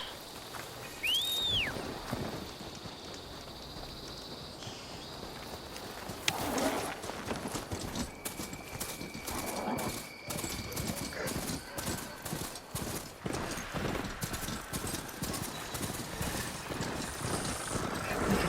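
Robotic machine mount trotting in Horizon Forbidden West, a steady clip-clop of hoofed footsteps running for most of the stretch, with metallic whirs and a brief whinny-like call over a game soundscape.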